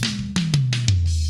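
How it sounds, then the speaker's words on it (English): Drum toms in a mix, brightened with an SSL EQ plugin, struck in a quick descending run of four or five punchy hits with bright attack, each pitch lower than the last. "I had to brighten up the toms even more."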